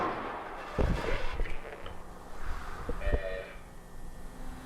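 Gunfire in a Kane Pixels Backrooms episode: a couple of sharp, muffled bangs cut through a low rumbling background, one early and one later, with faint voices in the mix.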